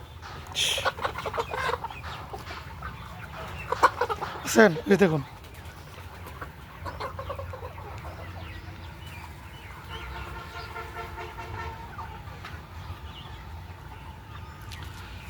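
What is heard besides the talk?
chickens clucking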